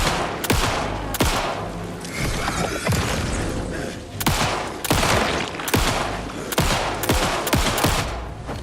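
Gunfire in the survival horror game Alan Wake 2: loud, rapid bursts of repeated shots crack sharply one after another over a continuous rumbling clatter, with no talking.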